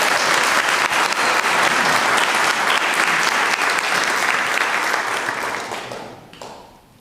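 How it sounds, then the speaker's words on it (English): Applause from a congregation at a Sunday morning service in a Unitarian church, loud sustained clapping from a full room that holds steady and then fades out near the end. "let's give him another round of applause"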